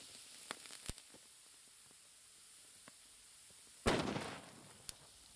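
One sharp, loud gunshot fired at sodium metal cracks suddenly over a quiet background, trailing into a short hissing decay, with a few faint clicks before and after.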